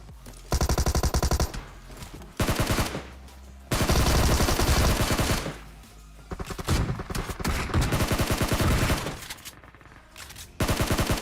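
Gunfire in PUBG while shooting two enemies, several loud rapid automatic bursts separated by brief pauses, close and dominant with no talking.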